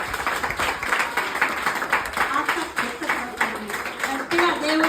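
A church congregation at a vacation Bible school gathering claps loudly and steadily in welcome, a continuous wash of applause with a leader's voice speaking over it.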